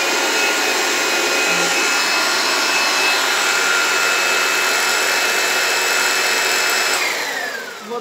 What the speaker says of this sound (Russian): В общем, хороший пылесос, он мне реально понравился